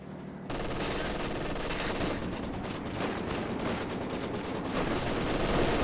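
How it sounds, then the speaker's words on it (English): Maxim machine gun in Company of Heroes 2 pouring out sustained rapid fire, a dense continuous rattle with battle noise that stays loud throughout, faint voices underneath. "Maxim suppressing some of these Grenadiers."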